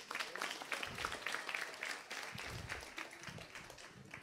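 A small group of young people claps for a girl during a class or talk, a brief patter of applause with scattered distinct hand claps, fairly quiet and uneven.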